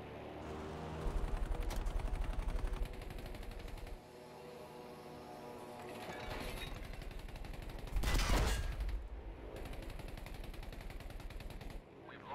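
Gunfire in Battlefield V, rapid automatic bursts rattling close and loud in sustained runs, with a sharper burst and explosion-like swell midway, over faint game ambience.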